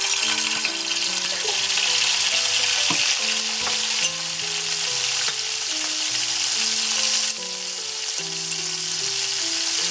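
Garlic fries in a tablespoon of olive oil in a pan with a bright, continuous sizzle and occasional stirring, while soft background music plays underneath.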